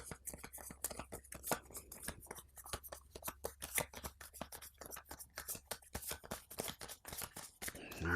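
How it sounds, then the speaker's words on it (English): A deck of cards from the Mandalorian Adventures board game is shuffled nearby in a quiet room. It makes a long, rapid run of soft, dense flicking clicks with no pause. "This gets shuffled."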